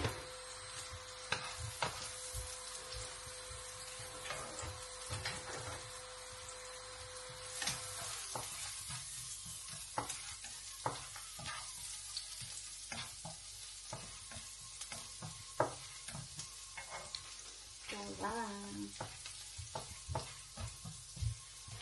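Garlic and leftover rice frying in a pan, a steady close sizzle with repeated scraping and stirring strokes throughout, no talking.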